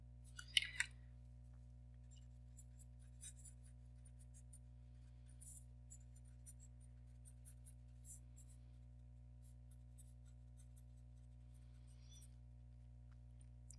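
Pen or marker scratching out an equation by hand in short, faint strokes over a steady electrical hum, with a few louder taps near the start.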